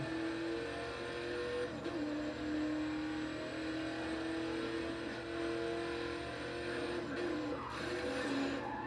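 In Burnout Paradise, the Arachnosport car's engine revs and drones steadily with rising and falling pitch, loud and continuous with no talk over it.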